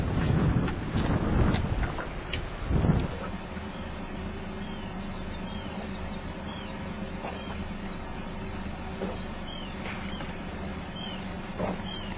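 Low steady rumble of boat motors idling on a trip from Prince Rupert, BC to Alaska, with gusts of wind buffeting the microphone at the start.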